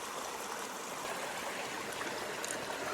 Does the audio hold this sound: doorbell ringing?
no